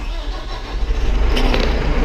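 A 5711 Dyna 4 tractor engine idles close by, a loud, steady low rumble that holds even throughout the short stretch.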